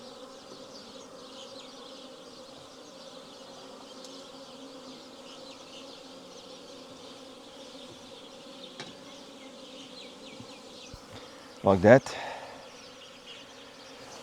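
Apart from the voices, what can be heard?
wasps buzzing around a beehive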